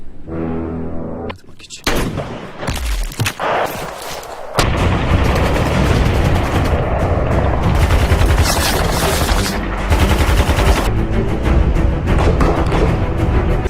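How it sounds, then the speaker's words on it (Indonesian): Gunfire in a film scene, sniper shooting: sharp shots and booms give way to a loud, sustained barrage of heavy fire, dense and close. "Ternyata para teroris itu memiliki sniper yang menyerang Sersan Baibars"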